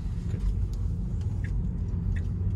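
A Tesla electric car drives and turns right, heard from inside as a steady low road rumble with tyre noise and faint interior clicks, no engine note.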